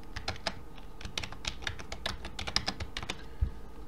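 Quick, uneven keystrokes tap on a computer keyboard while entering an identification number into an online banking form, close and crisp, a steady patter of clicks with no talking.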